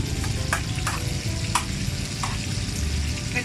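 Galunggong fish frying in a pan, a steady close sizzle of hot oil with sharper crackles and pops scattered throughout, with no voices.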